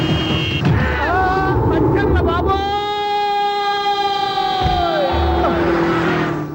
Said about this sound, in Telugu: ఆరినట్టండి బాబు, సైరన్నే కొట్టాడు.